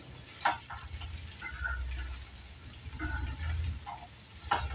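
Ridge gourd chutney ingredients, including peanuts, being stirred and fried in a pan, with soft scraping strokes and a low steady sizzle, a few sharper clinks of the spoon against the pan, and no talk.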